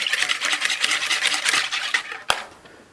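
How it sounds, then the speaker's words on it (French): Two eggs and milk are whisked by hand in a mixing bowl for Nutella cupcakes, a quick rhythmic scraping and swishing of the whisk close up, ending with a single sharp tap against the bowl. "On met dans le saladier donc les 2 œufs, le lait et on vient donc fouetter"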